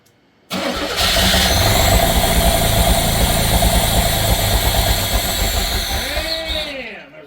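A Pontiac Fiero engine catches and runs steadily at close range, a loud continuous mid-pitched rumble with fluctuating idle that holds for several seconds before dropping away.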